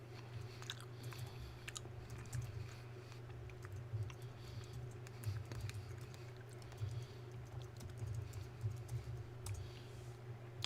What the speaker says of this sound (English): I gotta type out the email.